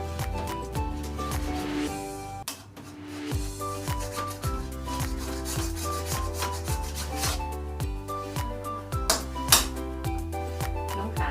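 A spatula scrapes and rubs against a pan of thick taro paste in repeated strokes, a rasping rhythmic stirring over faint background music.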